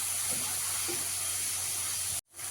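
Turmeric and Kashmiri chili powder frying in a pan give a steady, close sizzling hiss that runs evenly, then cuts off abruptly near the end.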